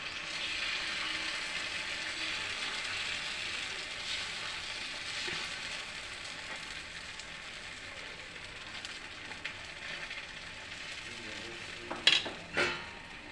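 Sweetened food in a pan is stirred briefly over a faint, even sizzle, ending with a few quick clattering knocks of the utensil.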